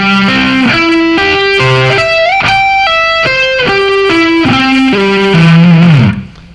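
Distorted electric rock guitar plays joined arpeggio shapes at a steady pace, a continuous stream of bright sustained notes that climbs and falls, loud and close, ending with a fading final note.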